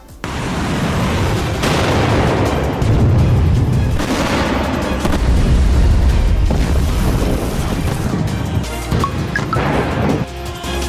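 Heavy bombardment in a war zone across Gaza, Lebanon and Syria, with loud rumbling blasts and booming impacts that roll on continuously at close range, a few sharper cracks near the end.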